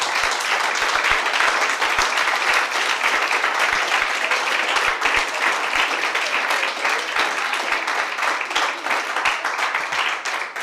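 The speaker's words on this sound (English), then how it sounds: "I ask you for a round of applause for my guests" Audience at a panel event on journalist safety applauding guests, a sustained, even round of clapping from many hands lasting about ten seconds, fairly loud and steady.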